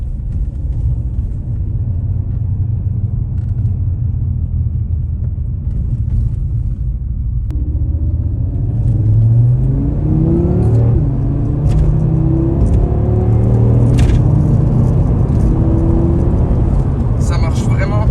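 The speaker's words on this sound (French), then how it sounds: "c'est cette mélodie du 5 cylindres quand tu accélères, quand tu maintiens ton accélération en fait, le bruit qui dégage le 5 cylindres" Audi RS3 8Y five-cylinder engine accelerating and holding the throttle, a loud continuous low rumble whose pitch climbs steadily through the second half, with people talking over it inside the car.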